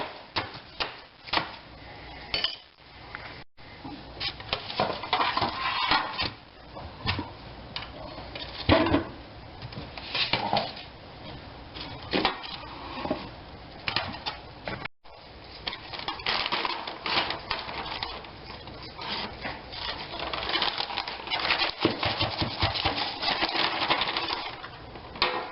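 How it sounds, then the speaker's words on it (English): A food processor chops tomato chunks into small pieces in a kitchen, producing irregular clattering, rattling bursts with a few brief pauses, close and moderately loud throughout. "So chop this up to get it in the freeze dryer. Not the freeze dryer,"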